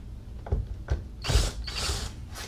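A T25 screw is backed out of interior trim in a BMW F30, giving a few close ratcheting clicks followed by short bursts of grinding, mechanical turning.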